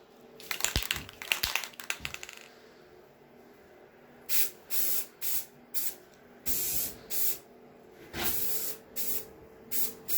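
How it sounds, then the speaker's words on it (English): A spray paint can hisses onto refurbished RZR 900S tree kicker parts indoors, giving about nine short, close bursts in a steady rhythm, after some earlier clattering handling noises. "I don't normally spray paint inside, but today we're making an exception"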